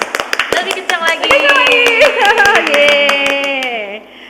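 Children at a Sunday school church service clap their hands together in a quick, irregular burst of sharp claps, mixed with singing or excited voices that carry over and continue after the clapping.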